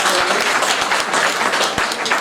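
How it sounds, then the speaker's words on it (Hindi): Crowd applause at a rural organic-farming event, with dense clapping from many hands filling the air continuously for a couple of seconds. "आज के इस कार्यक्रम के आयोजक संयोजक जिनके प्रयास के लिए हम लोग जोरदार ताली बजाते हैं"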